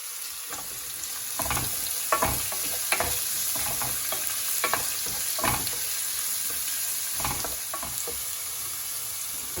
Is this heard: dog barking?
no